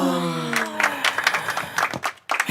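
An audience applauds, a short burst of clapping heard alongside a voice and other sounds, fairly close and fading in and out over a couple of seconds.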